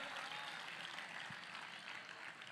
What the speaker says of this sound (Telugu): చప్పట్లు కొడుతూ ప్రభువారికి స్తోత్రాలు చెప్దాం